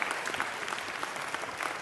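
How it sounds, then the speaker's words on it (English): Applause at a city council meeting, a steady ripple of hand claps from a seated room, moderately near and continuous with no talk over it. "Let's give Albert Lord a round of applause"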